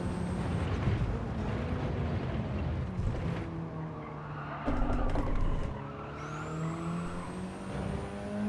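Mitsubishi race car in Gran Turismo 7 at the Red Bull Ring, its engine droning and revving steadily with rising pitch sweeps and a brief louder surge, continuous and close.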